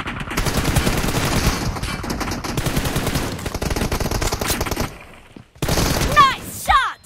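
Rapid automatic gunfire in a video game team deathmatch, dense and loud bursts running for about five seconds, then a short gap and a few sharper shots with ricochet-like whines at the end.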